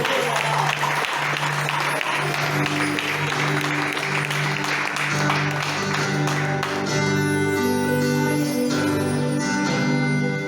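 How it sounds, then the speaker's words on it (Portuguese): A congregation at a worship service applauds in a steady wash of clapping, while organ or keyboard chords and singing swell over it, growing brighter and more tonal toward the end. "Você pode aplaudir ao Espírito Santo."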